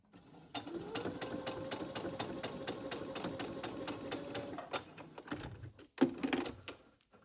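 A sewing machine stitches a mixed knit and woven peasant top at the V-neck, running in a steady, fast mechanical chatter for about five seconds before stopping, followed by a few quiet handling clicks.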